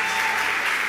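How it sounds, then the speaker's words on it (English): Dense, steady applause from the audience at an awards ceremony as the honorees return to the stage, a brief burst of continuous clapping with no pause. "one more round of applause"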